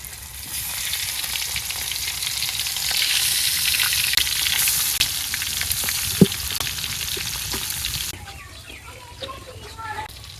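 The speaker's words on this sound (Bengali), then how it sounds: "মাছ ভাজা বসাই দিলাম।" Fish coated in turmeric, chili powder and salt fries in a pan with a loud, dense sizzle and crackle, stirred now and then with a sharp clink, easing off near the end.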